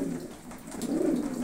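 Pigeons coo outdoors in low, rolling, throaty calls that swell and repeat, with nearby birds audible in the background.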